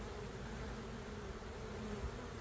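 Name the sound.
bees buzzing on a hive frame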